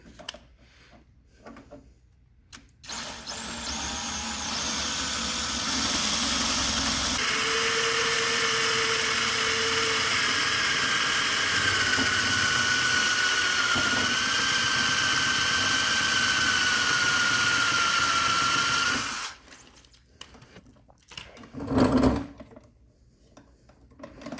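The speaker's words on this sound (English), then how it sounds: "the idea is to drill off that back portion of that rivet" A power drill whines steadily for about fifteen seconds, its pitch wavering as it bores out a metal rivet on a push spreader, bracketed by brief handling clatter.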